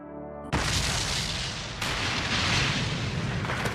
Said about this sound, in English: Oh, those explosions? These fires? Beautifully done.